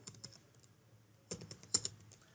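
Sparse keystrokes on a computer keyboard while entering an Excel formula, a few light taps early, then a quicker cluster of clicks, close and quiet in an otherwise silent room.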